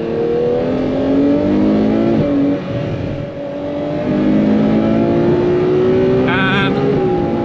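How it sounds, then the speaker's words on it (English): Ferrari 812 Superfast with its V12 accelerating on a German autobahn, a loud sustained engine drone rising in pitch through gear changes, with a brief dip mid-pull and road and wind noise. "The way this thing accelerates is just mental."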